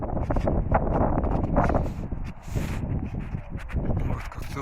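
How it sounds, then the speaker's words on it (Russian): Wind gusts buffet the microphone on a shore beside a small campfire, a rough, rumbling roar that rises and falls in uneven bursts. "Ветер."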